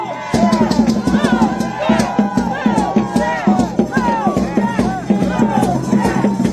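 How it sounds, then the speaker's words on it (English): Protesters on a Chicago street cheer and shout as law enforcement withdraws, a loud, close crowd of overlapping yells and whoops with bursts of clapping throughout. "Some of the protesters are cheering now because law enforcement is withdrawing."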